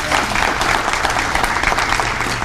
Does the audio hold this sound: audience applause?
yes